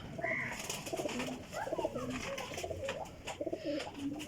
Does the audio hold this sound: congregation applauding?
no